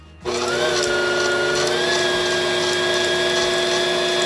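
An electric mixer starts up and runs steadily while beating sweet potato pie filling, a loud continuous whine with a sharp onset that holds a steady pitch close by, with no talk.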